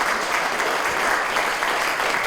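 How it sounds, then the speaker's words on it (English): Steady, dense clapping from a crowd fills the whole moment, an even wash of applause without pauses. "give a big round of applause to all of our"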